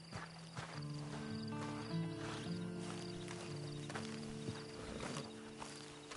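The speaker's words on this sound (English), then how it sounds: "Then you better get on this horse." Horse hooves clip-clop at a steady walking pace in the video game Red Dead Redemption 2, with a soft musical tone underneath, moderately close, no talking.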